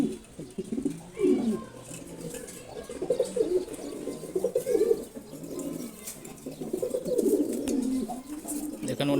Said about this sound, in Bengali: দেখেন ওর নিচে একটা গিরিবাজ কবুতর আসছে, ওকে ঠোকরাচ্ছে এখন ও উপরে থেকে।